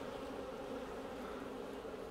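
A low steady buzz of honeybee drones crowding a hive frame during a beekeeping inspection, a continuous close hum with no talk.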